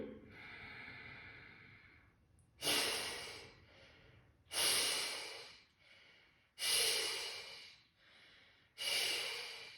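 Slow, deep nasal breaths in a kapalabhati breathing practice, a steady inhale followed by four strong, rhythmic whooshing exhalations about two seconds apart, close and loud.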